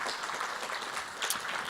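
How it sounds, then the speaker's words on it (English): A conference audience at a tech summit claps together in a dense, steady wash of applause, heard from a distance at moderate volume for a short stretch. "Let's have a round of applause."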